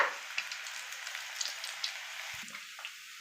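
Small onion pakodi deep frying in oil, heard as a soft continuous sizzle with faint crackling pops throughout, fairly quiet and without voices.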